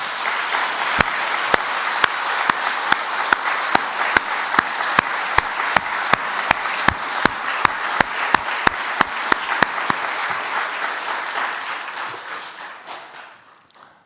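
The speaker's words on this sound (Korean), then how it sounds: "허락하시면 한번 박수를 한번 더 드렸으면 좋겠습니다" A church congregation applauds during a Thanksgiving Sunday worship service, a sustained roomful of clapping with a few sharp individual claps standing out, steady for about twelve seconds before tapering off to silence.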